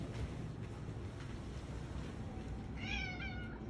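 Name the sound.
cat meowing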